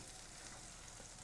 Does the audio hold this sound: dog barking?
no